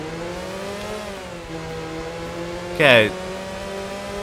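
Race car engine in the Road Rage 3 video game, a steady harmonic drone rising as it accelerates, with a brief loud burst near the end and a short spoken word over it.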